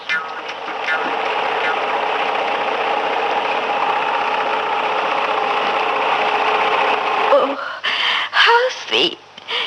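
A hand-operated sewing machine runs steadily and close, a loud whirring mechanical hum with rhythmic clatter that stops near the end, after which people talk.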